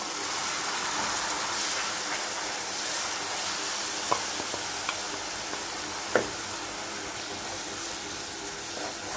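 Ground tomatoes fry with Kashmiri chilli powder masala for rajma curry, giving an even, hissing sizzle throughout, with a couple of soft ticks from the pan.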